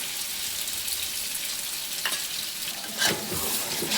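Chicken pieces for a quick chicken biryani frying and being stirred in a pan, a steady broadband sizzle with scraping stir strokes around the middle and a louder burst near the end, no talk.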